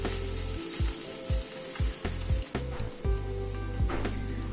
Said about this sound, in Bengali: চিকেনটাকে দিয়ে আরো মিনিট 2-3 গ্যাসের ফ্লেমটাকে কমিয়ে রেখে ভেজে নিলাম।